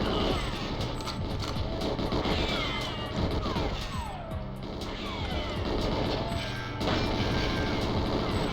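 Gunfire in the Nintendo 64 shooter GoldenEye 007, a steady stream of rapid shots and impacts mixed with game music at moderate volume, running through the whole stretch.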